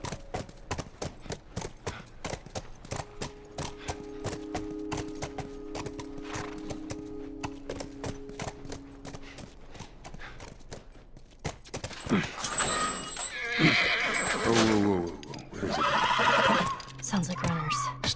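A horse in The Last of Us video game whinnies and clip-clops on its hooves, with a steady stream of hoofbeats early on and louder neighing and snorting later, mixed with other game sounds.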